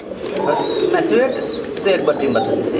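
Pigeons, including Hungarian house pigeons, coo at a pigeon farm, with soft throaty warbling calls repeating close by as someone talks over them.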